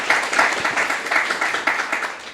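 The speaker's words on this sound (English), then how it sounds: "Huge round of applause for these guys." An audience at the 2025 Nashville Bitcoin unconference claps for the presenters, a short, fairly loud burst of crowd applause with a slightly pulsing rhythm.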